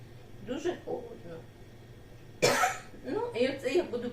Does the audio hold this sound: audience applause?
no